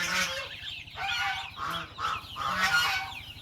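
Several geese honk in quick succession, loud and close, among ornamental chickens, ducks and other poultry, with a steady low rhythmic hum running underneath.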